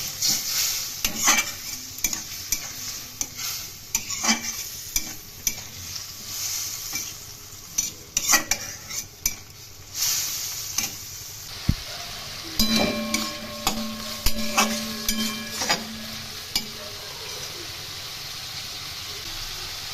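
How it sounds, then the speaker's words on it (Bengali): Cauliflower with salt and turmeric stirred and sautéed in a pan for a Bengali rui fish curry, a steady close sizzle with repeated scraping strokes of a spatula, no talking. "এখন এই মশলা ফুলকপির সাথে খুব ভালো করে কষিয়ে নেব"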